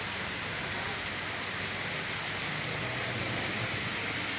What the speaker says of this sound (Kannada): ತುಂಬ ಜೋರಾಗಿ ಐತೈತೆ ಮಳೆ, ಸಿಕ್ಕಾಬಟ್ಟೆ ಮಳೆ.